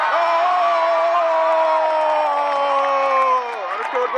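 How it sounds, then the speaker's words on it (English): Crowd cheering and whooping at the Penn Relays 2019 track meet, a loud sustained roar of many voices with rising shouts, steady for several seconds before easing slightly near the end. "The crowd goes wild."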